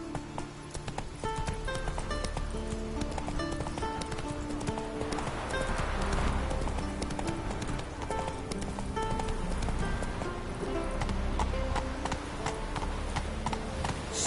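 A horse gallops in The Witcher 3 on PS4, its hooves beating in a fast, continuous rhythm, with snorts and light game ambience under it throughout.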